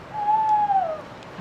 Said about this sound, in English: Sounds like an owl or something.